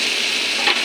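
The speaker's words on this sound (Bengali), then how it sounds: "মশলাটা ভাজা ভাজা হয়ে ঢাকনাটা তুলে দেখি।" Spice masala sizzles steadily in a pan with vegetables once the lid is lifted, a close, even frying hiss with a brief louder stir near the end.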